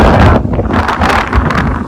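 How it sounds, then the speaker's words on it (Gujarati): Loud, strong monsoon wind over flooded village fields buffets the microphone in heavy, roaring gusts, rising and falling throughout. "અને પવન બી ઘણો બધો છે"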